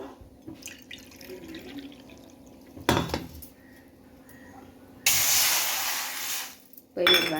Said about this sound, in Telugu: నేను 3 కప్పులు నీళ్ళు అయితే వేసేసుకుంటున్నాను పిండికి